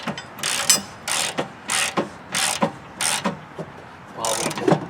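A hand ratchet clicks in repeated short bursts, about eight strokes with brief pauses, tightening the mower blade bolt on a John Deere LA10 lawn tractor held still with a wooden block; close and clear.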